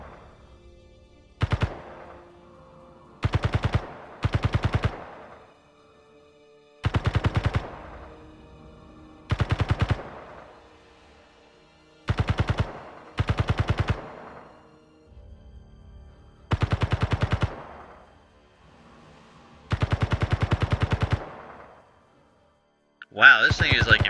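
Gunfire aimed at a target, heard as about ten separate bursts of rapid automatic rounds with short pauses between them, loud and fairly close against a quiet background.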